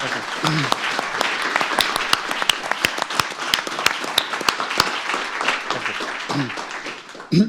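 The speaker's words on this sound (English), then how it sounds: "Applause is to our Prime Minister." Conference audience applauding a prime minister at a corporate governance event, a sustained hall-wide clatter of clapping with sharp individual claps standing out and brief voices mixed in.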